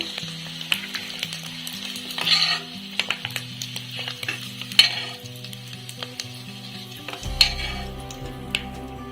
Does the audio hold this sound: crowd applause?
no